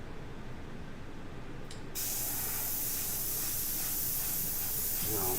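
Airbrush spraying Purely Pigments paint, a steady faint hiss that jumps to a brighter, stronger spray about two seconds in and holds, with no talking.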